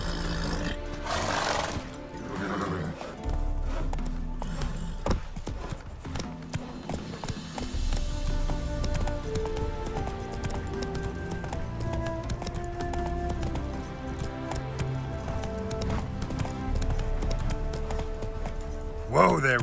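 Geralt's horse Roach galloping in The Witcher 3, with quick, steady hoofbeats running throughout under music and game ambience, and brief talk near the start.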